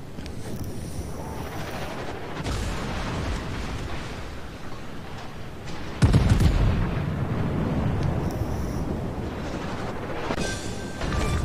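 Naval gunfire in World of Warships, with the Arizona and Prinz Eitel Friedrich battleships: a steady wash of sea and wind broken by a sudden loud, booming salvo around the middle, followed by lingering rumble, with no voices.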